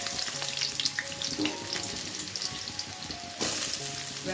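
Garlic sizzles and crackles steadily in oil in a pan, close and moderately loud, with a brief louder hiss near the end as ingredients are stirred.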